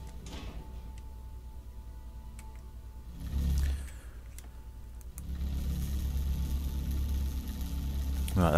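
Vehicle engine in the game FAR: Lone Sails starting up with a low, heavy rumble that swells around the midpoint, then settles into a steady loud mechanical drone that runs to the end.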